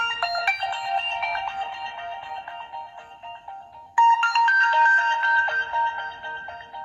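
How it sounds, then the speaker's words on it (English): A Nokia N97 mobile phone alarm ringtone plays an electronic melody of bright repeating tones, shifting to a higher phrase midway, with no talking. "let's go into ringtones, and we'll actually play some ringtones"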